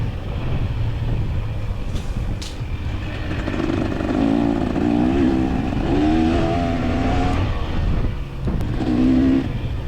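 A dirt bike engine revs and shifts through rising and falling pitches while racing on the Hillbilly race track in West Virginia, close and steady, with wind buffeting the microphone throughout.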